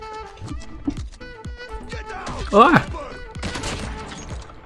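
A BY15 shotgun fires in Call of Duty: Mobile, sharp blasts and a burst of crackling shots amid game effects, with a voice talking over them.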